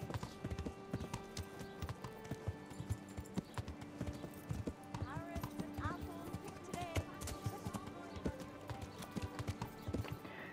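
Steady clip-clop of horse hooves trotting at a brisk, even rhythm in the video game Kingdom Come: Deliverance, fairly close, with a brief whinny partway through and faint background music.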